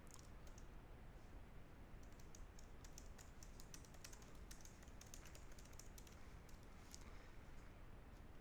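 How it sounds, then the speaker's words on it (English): Soft, rapid keyboard typing, an irregular run of light clicks that grows busier midway, heard faintly over a low background hiss. "I'm just typing."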